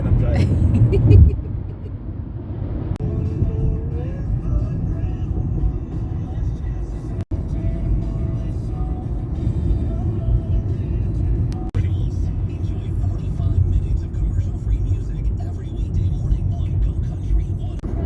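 Car rolling through the Hollywood Hills, a steady low road and engine rumble running throughout with a brief thump early on and people talking over it.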